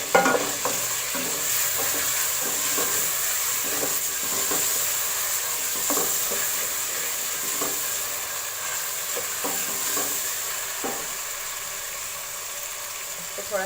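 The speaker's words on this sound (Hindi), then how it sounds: "इसमें डाल दूँगी मैं अब अदरक लहसुन का पेस्ट 1 खाने का" Ginger garlic paste frying with softened tomatoes in a pan for dal gosht, a steady close sizzle with repeated spoon stirring and scraping throughout.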